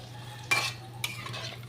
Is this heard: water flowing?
no